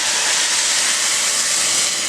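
Nearly boiling stock poured onto toasted rice in a pan for a stuffed chicken dish, giving a steady, loud steaming hiss that holds evenly throughout with no talking.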